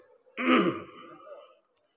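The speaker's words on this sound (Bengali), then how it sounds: "কাশি আসছে" A preacher at a religious gathering, recovering from fever and chest pain, clears his throat once, a close and rough rasp that fades into a brief hoarse tail.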